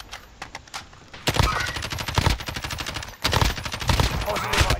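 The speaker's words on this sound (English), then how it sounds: "someone's shooting at us?" Rapid bursts of automatic gunfire in a video game firefight, dense overlapping shots in two long volleys after a quieter start, loud and close.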